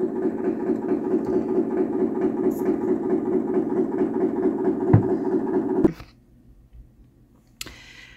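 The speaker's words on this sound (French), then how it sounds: "Il y avait un camion apparemment réfrigérateur, un camion pour les livraisons de frais" A refrigerated delivery truck drones at night in a steady, loud, low mechanical hum with a rhythmic pulsing chug, then cuts off abruptly, leaving near silence broken by a short knock.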